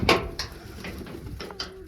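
Racing pigeons at a home loft in Niholka village coo in low, soft bursts. Rustles and faint outdoor noise surround them, and no one speaks.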